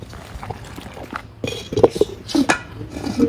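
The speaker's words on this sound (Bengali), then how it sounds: "এই যে মাউরোগুলো, এগুলোতে আমরা এখন হচ্ছে দইটাকে বসাবো" Clay yogurt pots (mauro) set down and handled on a hard surface, several sharp clinks and knocks scattered unevenly over a quiet room background.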